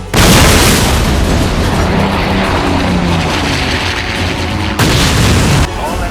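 In the 104 Squadron space combat game, a bomber takes heavy fire amid constant loud booming explosions and roaring weapon fire, one dense continuous barrage with a fresh burst near the end.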